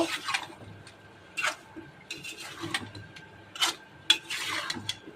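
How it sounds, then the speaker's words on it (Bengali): Papaya and potato being sautéed together in a pan, with faint intermittent scraping and clinks of a spoon stirring, soft and fairly close, with no talking. "পেঁপে আর আলুটা একসাথেই ভালো করে কষিয়ে নিব।"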